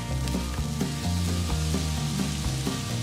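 Egg fried rice with peas, leftover turkey and soy sauce sizzles steadily in a pan, a close, continuous frying hiss with faint stirring and no voices.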